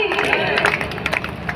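An audience claps after a devotional song, dense applause mixed with crowd murmur, while a voice talks over it.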